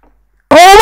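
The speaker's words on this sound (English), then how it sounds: "Oh my goodness, my cat." A house cat's meow heard up close during a gaming session, a single loud drawn-out tonal cry with rising pitch, alone after brief silence.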